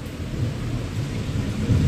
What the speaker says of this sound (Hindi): तो कितना जोर बारिश हो रहा है